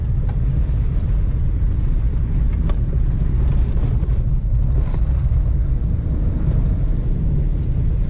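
A 2006 Subaru Forester on General Grabber ATX tires rolls over washboard dirt, a loud continuous low rumble and road roar with rattling texture and some wind buffeting throughout, no talk.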